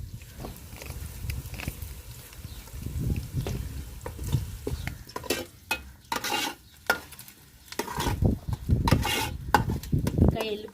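Onions and curry leaves fry and sizzle in a pan while a utensil stirs and scrapes in uneven bursts, close and fairly loud, for a village-style okra tamarind curry.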